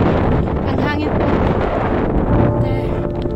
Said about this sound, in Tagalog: Ang hangin po.